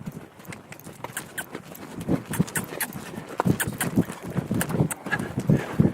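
A horse walking under a rider in a bridleless demonstration, its hooves clip-clopping in a steady, moderately close rhythm that grows slightly louder toward the end, with faint background noise.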